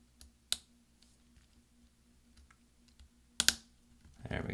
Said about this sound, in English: now we're going to push down with our finger, and you should hear several snaps